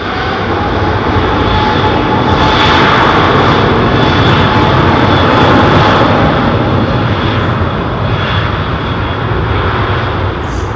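A Sri Lankan airliner's jet engines at London Heathrow Airport give a loud, steady, broadband roar that holds nearly unchanged throughout, close and continuous, with no voices.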